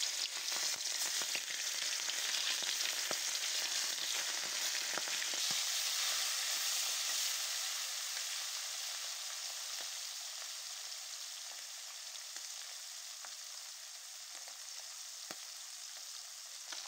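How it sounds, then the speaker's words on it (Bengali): Small puti fish, coated in turmeric and salt, frying in hot oil in a wok, giving a steady dense sizzle with crackling pops that eases slightly toward the end, close and without speech. "কড়াইতে তেল দিয়ে তার ভিতরে মাছগুলো দিয়ে দেব।"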